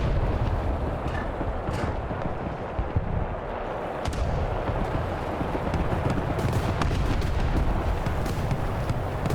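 Strv m/41 S-II tank in War Thunder with a dense wall of battle noise: booming cannon fire and gunfire rumbling steadily throughout, loud and continuous with no voices.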